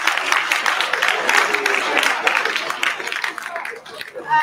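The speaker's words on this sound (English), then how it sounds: "So can we have a big round of applause to Penguin first?" Audience applause at a sixth form college talk, a steady wash of many hands clapping in a hall at close to moderate distance, fading slightly toward the end.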